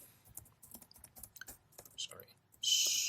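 Quick, quiet keystrokes on a computer keyboard while entering a terminal command, irregular clicks close to the mic, ending in a brief louder burst of hiss.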